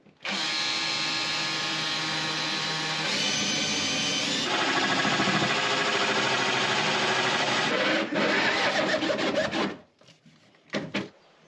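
A power drill whines continuously at high speed for about ten seconds, drilling into an abandoned boat under restoration, its pitch shifting slightly, then stops with a couple of short bursts.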